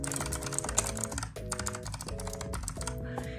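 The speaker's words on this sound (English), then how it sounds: "And it's extra clicky because, you know, a lot of gaming keyboards are clicky." A clicky Razer Huntsman optomechanical gaming keyboard in quartz gets rapid, continuous typing, dense crisp key clicks layered over background music, close and moderately quiet.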